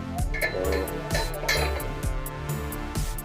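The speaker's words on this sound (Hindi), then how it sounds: "10 नंबर टी रॉड से खोलेंगे हम।" Number 10 T-rod wrench working loose a bolt on a generator silencer, a rhythmic series of close metallic clinks and ratcheting knocks repeating roughly every half second.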